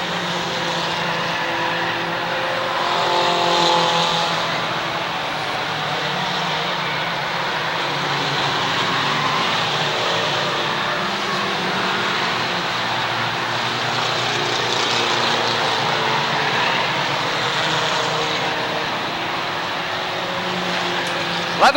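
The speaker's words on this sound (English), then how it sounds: "Tom Metcalf in that red 6M car is your leader" Mini stock race cars roar around the Waterford Speedbowl in a 1992 feature race, a steady, dense engine drone of several cars at once that swells and fades slightly as the pack passes, with no commentary over it.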